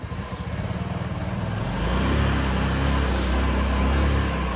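Honda Ruckus scooter engine just started, a close, low putter at idle that swells slightly louder and steadier halfway through.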